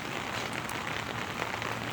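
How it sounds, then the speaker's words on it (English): Steady rain falls as a dense, even hiss of drops pattering on surfaces, constant and moderately loud throughout with no voices. "Now it's raining steadily"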